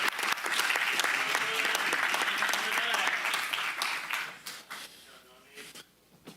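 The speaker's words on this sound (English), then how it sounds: "One more round of applause for this amazing group." A crowd at a county supervisors meeting applauds steadily for several seconds, with voices mixed in, before the clapping thins out and fades away.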